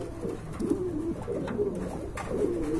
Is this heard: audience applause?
no